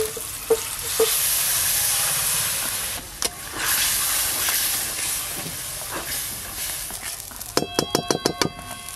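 Peas and spices sizzle and hiss loudly in a hot pan as they are stirred, with scraping strokes of the spoon through the steady frying noise and a burst of sharp metallic clatter near the end; no one speaks.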